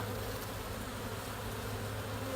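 Honey bees swarm around an opened hive box, a dense continuous buzzing drone that stays steady and close throughout with no talk.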